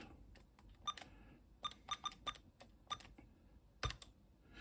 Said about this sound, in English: And you can hear the relay inside clicking